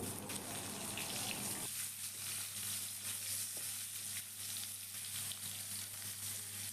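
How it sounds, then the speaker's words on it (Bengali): Potatoes frying in oil with salt, a soft continuous sizzle and hiss with faint stirring, joined at first by a steady low hum that stops partway through; quiet and close. "লবণ দিয়ে আলুটাকে খুব ভালো করে তেলের সাথে আমি ভেজে নেবো"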